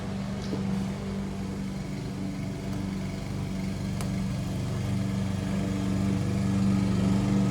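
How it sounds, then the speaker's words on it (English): A lawn mower engine drones steadily somewhere nearby, a constant mid-level hum lasting throughout with no voices over it. "somebody's either working on or mowing their grass or something"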